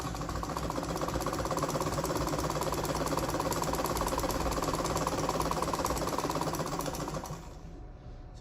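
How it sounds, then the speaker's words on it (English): A sewing machine stitches fabric for a button-down strap dress with pockets, a loud, close, steady mechanical whir that runs continuously, then slows and drops away near the end. "Then I'll just sew it down to the end."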